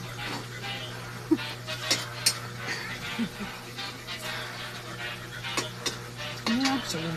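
Sliced ginger frying in a pan, a soft sizzle under stirring and scraping of a utensil with occasional sharp clinks, while a low steady hum runs underneath.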